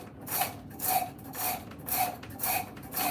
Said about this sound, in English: So take the Shinto rasp and clean it up.